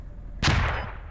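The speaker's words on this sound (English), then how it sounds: "Someone shot me." A single sharp, loud gunshot cracks out partway through a Squad video game match, with a short decaying tail over a low background hum.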